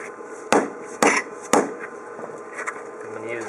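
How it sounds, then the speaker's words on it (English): A hammer strikes a chisel three times in an even rhythm, close and crisp, tapping expansion joint filler down into a one-inch joint, followed by lighter taps and soft handling noise. "Sometimes you need a little chisel and hammer to really get that down in there."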